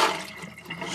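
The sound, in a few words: rusty fishing hooks shaken around in water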